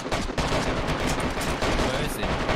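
Rapid gunfire from a DayZ firefight crackles in a dense, continuous burst of shots, loud and close with little space between reports.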